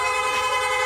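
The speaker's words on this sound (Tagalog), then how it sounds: "Meron pa rin po rapid horn." A rapid-fire electric horn on a Suzuki Raider J 155 (Sniper 155) motorcycle sounds a steady, loud, buzzing tone held close by, without any voices.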